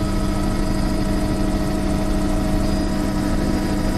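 A steady, loud helicopter engine heard from aboard drones continuously, with a deep rotor rumble and a constant whining hum that never lets up.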